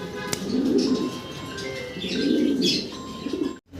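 Pigeons coo in low, throaty bursts, two main rounds close by, with a few higher chirps and a brief sharp click near the start.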